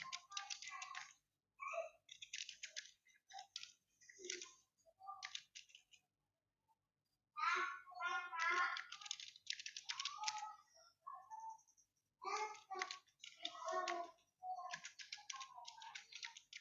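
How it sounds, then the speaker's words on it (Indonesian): Someone types on a computer keyboard in Ms. Word, sending bursts of close, crisp key clicks with short pauses between runs, alone in a quiet room. "Setelah aku ngetik dulu ya."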